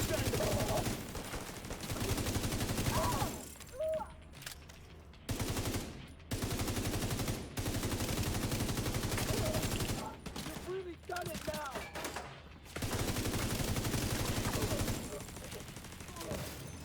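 Rapid automatic fire from the PDR gun in a video game, sustained close bursts separated by brief pauses, loud and dense throughout.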